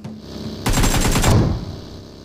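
Automatic gunfire in the mobile battle royale game PUBG Mobile, a rapid burst of shots lasting under a second, loud and sharp, followed by a fading tail.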